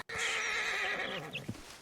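Horse in the video game Red Dead Redemption 2 lets out a loud, close whinny that rises and wavers for about a second, with a couple of soft hoof clops right after.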